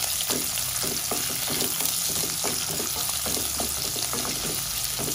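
Finely chopped onion fries in oil with cinnamon, cloves, star anise and fennel, making a constant close sizzle with soft rhythmic stirring throughout and no voices.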